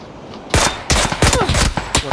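Several sharp bursts of gunfire in the video game PUBG in quick succession, loud and close, with irregular spacing between the shots.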